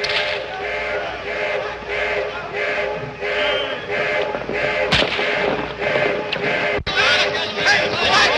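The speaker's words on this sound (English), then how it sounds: "Somebody else shooting?" Gunfire from someone shooting nearby during a tense outdoor scene, sounding as sharp cracks amid continuous rumbling noise and voices, with a couple of loud distinct reports standing out.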